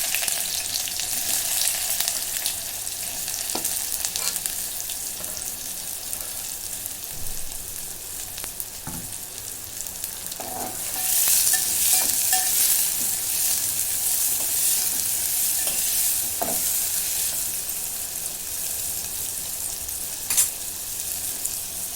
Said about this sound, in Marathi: आता कांदा चांगला मी भाजून घेतलेला आहे